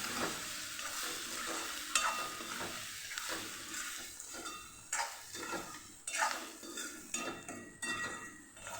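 Chickpea flour batter is stirred in a pan while it sizzles and fries, with a spoon scraping and tapping against the metal in irregular bursts, close up and with no voices.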